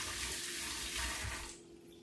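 Steady rush of tap water running into a kitchen sink while hands are rinsed, loud and close, then the flow cuts off near the end.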